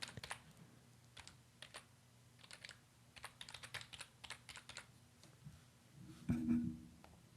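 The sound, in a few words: typing on a computer keyboard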